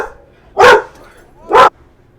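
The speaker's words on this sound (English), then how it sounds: "As you can also hear the security dog making sure everything is all set." A security dog at a soccer field barks twice, loud and close, with a pause of about a second between the sharp barks against a quiet background.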